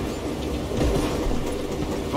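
A train rolling along in Call of Juarez: Gunslinger, a steady loud rumble of wheels and rail cars with faint clacking, continuous throughout and with no voices.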